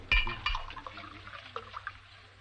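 A splash of water thrown onto a man, two quick wet bursts near the start followed by dripping and small spatters, close and fairly quiet, with no talking.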